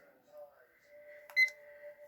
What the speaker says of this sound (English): I better set the timer.